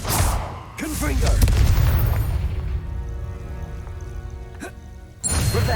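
Confringo fire spell in Hogwarts Legacy bursting into an explosion, a loud booming blast with a rumbling tail and sharp bangs after it, over game sound with a short spoken word.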